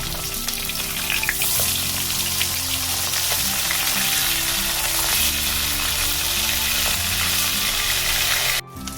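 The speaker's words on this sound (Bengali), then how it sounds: "এবার আমি মাছটাকে একটু উল্টে দেবো" Fish (koi) sizzling loudly in hot oil for a tel koi dish, a constant crackling fry with small pops and scrapes, close up and uninterrupted until a brief dip near the end.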